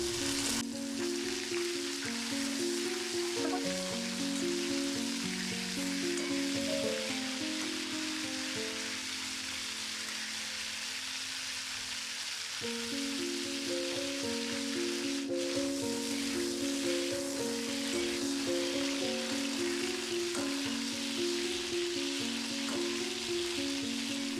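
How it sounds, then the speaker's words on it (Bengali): Cauliflower florets fry in hot oil with a continuous, even sizzle and crackle throughout, while soft tonal music plays underneath and no one speaks. "বাকি ফুলকপিটাও তেলের মধ্যে নিয়ে ভেজে নিচ্ছে"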